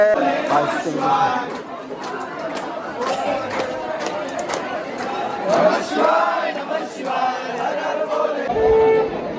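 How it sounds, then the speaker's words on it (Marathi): Large crowd of pilgrims queued for darshan at Bhimashankar temple, a loud continuous babble of many voices with shouts rising above it, close all around. "पूर्णपणे आज गर्दी बघू शकता दर्शनासाठी किती आहे"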